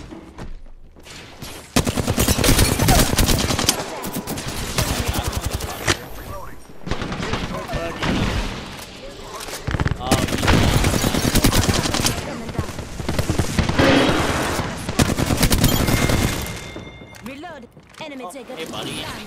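Apex Legends gunfire comes in long, loud bursts of rapid automatic shots, with short pauses between volleys, and a voice talks over parts of it.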